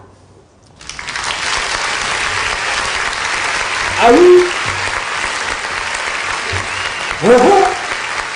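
Steady applause from an audience during a morning radio broadcast, filling most of the clip at even strength, with brief spoken remarks rising over it twice.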